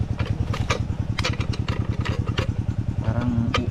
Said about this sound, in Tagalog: Liit lang pala ng makina na ito eh.